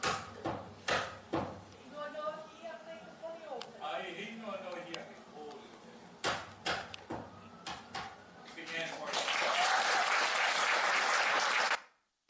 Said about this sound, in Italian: there was some applause at the end